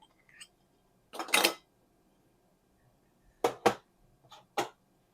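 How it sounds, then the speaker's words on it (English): Spoon clinking against a small 4-ounce glass mason jar while homemade Sazón seasoning mixture is scooped in, a few bright, separate taps and scrapes with quiet gaps between them. "spoon this mixture into the 4-ounce mason jar"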